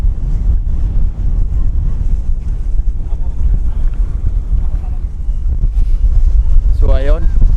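Wind and sea waves out on open water during a fishing trip, a steady loud rush of gusting wind buffeting the microphone over the wash of surf throughout, with a brief faint voice near the end.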